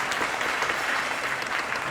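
An audience at a jazz concert claps steadily in a dense, even burst of applause, close and fairly loud, with no voices over it.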